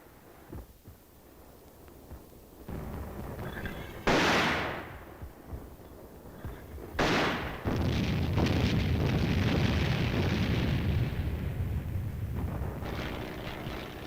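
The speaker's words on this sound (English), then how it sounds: "the aerial observer directs the mortar fire on enemy positions that can't be seen from the ground" Mortar rounds explode on enemy positions in a wartime Army aviation fire mission directed by an aerial observer: two sharp, loud blasts a few seconds apart, then a sustained, heavy roar of continuing fire and rumble.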